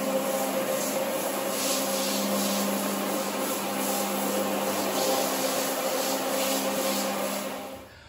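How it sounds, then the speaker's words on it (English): A floor buffer running continuously over a tile floor to strip solvent-based sealer, giving a loud, steady mechanical whirr with a scrubbing texture that holds throughout and tapers off at the end. "we're just going to keep buffing through and allowing the solvent to dwell before vacuuming it off"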